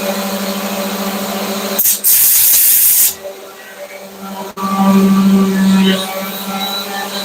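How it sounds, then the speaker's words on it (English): An air compressor nozzle in a woodworking shop lets out two loud bursts of hissing, blowing air, the first about a second long and the second longer, over a steady background hum with a sharp click between them. "we'll get the air compressor."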